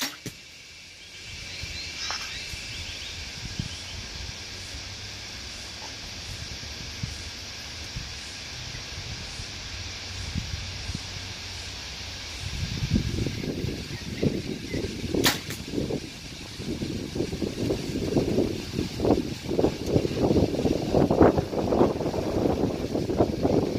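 Wind buffets the microphone, starting as a low rumble and growing into gusty, uneven roaring in the second half, with a sharp click midway.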